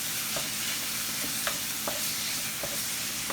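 Ground meat fries in a pan while being stirred, a steady close sizzle broken by several brief scraping strokes of a utensil at irregular intervals.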